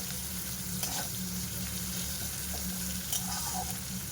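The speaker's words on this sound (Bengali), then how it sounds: "পেঁয়াজটাকে হালকা ভেজে নেব।" Onion frying lightly in salted fish oil, a continuous even sizzle with an occasional faint stir, steady and moderately quiet.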